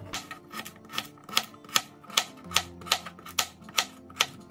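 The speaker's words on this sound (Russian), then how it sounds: "Как можно мельче нарезаю морковь." A knife finely chopping carrots on a cutting board, heard as a steady run of sharp, regular taps close by, with no talking.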